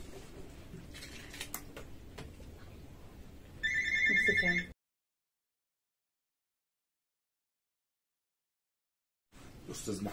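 A landline telephone rings briefly with a bright electronic trill amid kitchen clatter and background noise, then the sound cuts to silence before noise returns.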